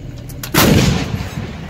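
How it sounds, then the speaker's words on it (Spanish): An artillery cannon fires once with a loud, close boom that rolls off into a fading rumble, and there is no talk. "otra cosa es disparar un maldito cañón de artillería para despertarlo"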